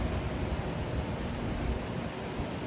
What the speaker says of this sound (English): Oh my gosh, so windy.